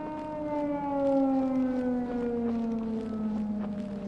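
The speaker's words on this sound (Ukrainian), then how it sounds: "Повітряна тривога." An air raid siren in the horror game Don't Scream wails steadily, its tone sliding slowly downward as it holds loud and continuous for the whole stretch.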